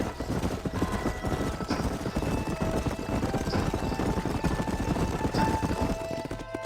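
Several horses' hooves clip-clop at a steady trot in the Western video game Red Dead Redemption, a dense rhythmic patter continuing throughout under faint ambient sound.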